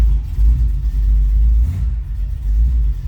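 A stroked 351 Windsor V8 in a 1965 Ford Mustang coupe idles close by with a deep, loud, lumpy rumble, its low throb pulsing unevenly throughout.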